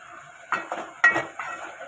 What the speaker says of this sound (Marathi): थोड्या शेंगा फ्राय करून घ्यायच्या जराशा.